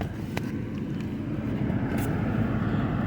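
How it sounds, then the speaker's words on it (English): A Nissan's cabin fan runs at maximum after a remote start, making a steady, even whoosh of rushing air that holds constant with no voices. "the fan is blowing at max"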